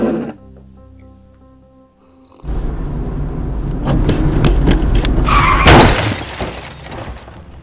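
Car skidding with tires squealing after its brakes fail, a loud rough roar of sliding and scraping that builds to a sharp crash-like peak and then fades, coming after a quiet low tonal stretch.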